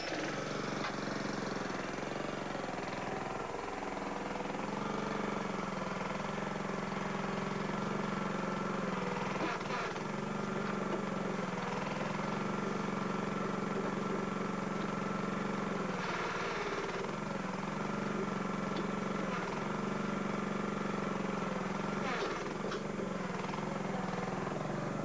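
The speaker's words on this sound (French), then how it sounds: "Je vais partir le moteur." Engine of a hydraulic tree-digging machine running steadily, a constant low mechanical drone that stays fairly faint and even for the full stretch, with a few brief clanks and shifts rising briefly above it.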